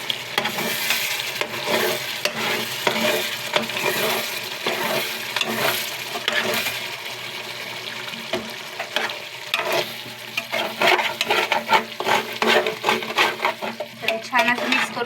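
Chicken for biryani cooking in a pot, a continuous sizzle broken by frequent scraping and clinking stirs of a spoon against the metal, busier and more rhythmic toward the end.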